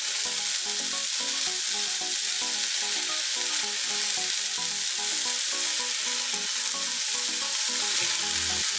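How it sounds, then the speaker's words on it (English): Green pepper and mushrooms frying in a pan for low-calorie breakfast egg cups, giving a steady, close sizzle with light scraping and stirring throughout, with no one talking. "next I'm going to add the green pepper and the mushrooms"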